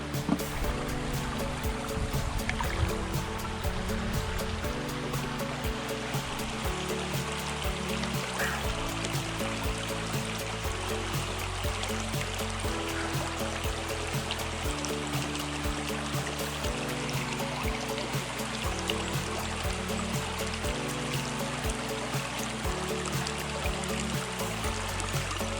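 Stream water on the Bruce Trail's Beaver Valley section, rushing and flowing steadily beneath a bridge, a dense continuous wash with no voices.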